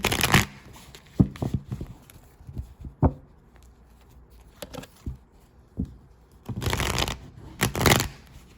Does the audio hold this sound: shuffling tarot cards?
yes